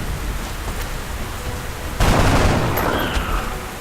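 Gunfire in XCOM: Enemy Within, a loud burst of shots breaking in halfway through over a constant rain-like background rumble, then trailing off into a noisy echo.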